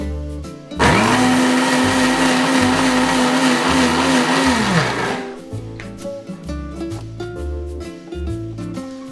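A kitchen blender grinding cooked tomato masala for paneer butter masala, a loud, steady whirring that runs for about four seconds before spinning down, followed by quieter clattering and background sounds.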